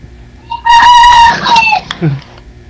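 A rooster crows once, loud and close, a long rising-then-falling call, followed by a brief low cluck, among many chickens.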